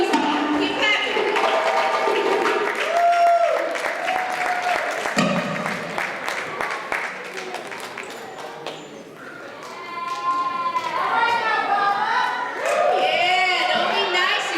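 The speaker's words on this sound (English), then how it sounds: "Keep clapping till you stop." An audience applauds a West African dance group at a Touch of Africa show in Las Vegas. The clapping is loud and sustained under cheering crowd voices, with a rhythmic clapping pulse and a few shouts over the top.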